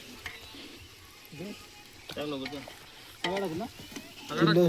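Tomatoes go into chicken frying on an outdoor wood-fired stove, with quiet sizzling and stirring beneath several people chatting nearby.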